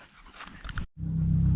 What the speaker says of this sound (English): so if you hear panting in the background, that's what it is